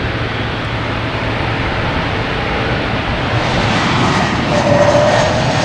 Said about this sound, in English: we got the Korean Air, the big Korean Airlines